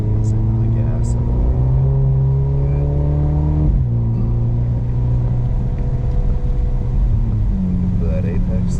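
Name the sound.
Mercedes SL45 car accelerating on a race track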